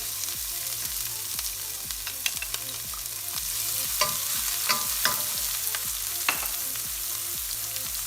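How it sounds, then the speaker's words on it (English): Cumin seeds and onion stir-frying in hot oil, a continuous close sizzle with repeated rhythmic scraping and stirring strokes against the pan. "Let it splutter. Here goes my onion."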